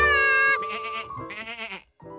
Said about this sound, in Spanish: ¡Se escapa una oveja!